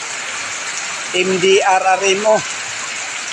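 Heavy rain during flooding pours as a steady broadband hiss throughout, with a voice speaking briefly over the downpour in the middle.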